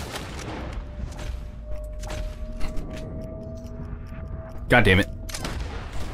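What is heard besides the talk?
rifle gunfire in video game Red Dead Redemption 2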